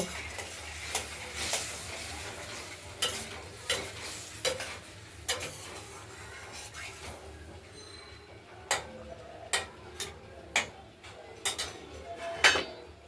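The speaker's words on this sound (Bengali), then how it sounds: "নাড়াচাড়ি দিয়ে মশলাটা কষানো পর্যন্ত আমরা একটু অপেক্ষা করব।" Spoon or spatula stirring and scraping spice paste for a potato and pointed gourd curry as it fries in a pan, with a soft background sizzle and a series of sharp metallic clinks and scrapes that come in irregular bursts, close and alone.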